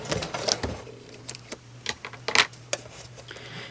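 A sewing machine stitches through vinyl plastic at a slow, even pace, giving close, quiet bursts of mechanical clatter and ticking over a steady low motor hum.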